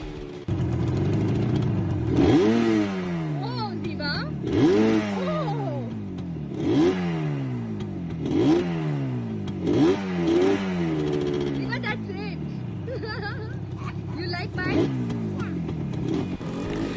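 A motorcycle engine carrying a rider and a small child revs up again and again at close range, rising and falling in a regular pulsing rhythm about every two seconds over a continuous rumbling idle.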